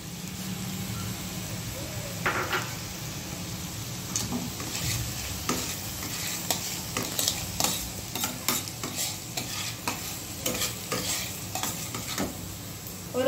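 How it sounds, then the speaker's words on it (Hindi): Paneer frying in a pan for tacos, sizzling steadily while a spatula stirs and scrapes in repeated close strokes, with no talk. "अब हम ये पनीर डाल देंगे।"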